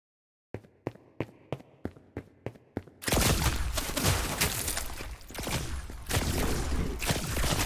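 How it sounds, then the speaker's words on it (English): Two weapons firing together in the game Arms of God: a rapid run of eight crisp, evenly spaced shots, then a dense, loud wash of continuous gunfire and impacts. "Now that I have two weapons, both will fire."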